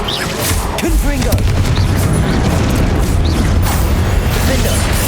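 A fiery blast spell in the Hogwarts Legacy video game goes off amid loud, dense game combat, with deep booming rumble, mechanical clanks and crackling debris filling the whole stretch.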